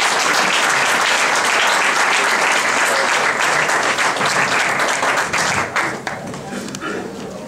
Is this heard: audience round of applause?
yes